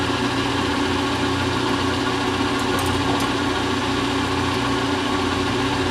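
A milling machine set up as a lathe runs continuously with a steady, loud motor hum and faint vibration. Nothing else is heard over it.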